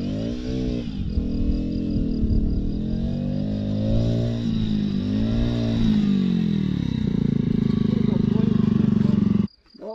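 Motocross motorcycles ride through a no-entry area in rural Poland, their engines revving and droning up and down steadily and loudly for about nine seconds while people talk over them. The engine noise stops abruptly at the end.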